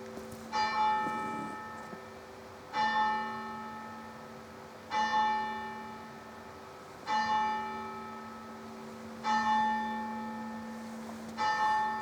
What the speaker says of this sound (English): The bells. The bells.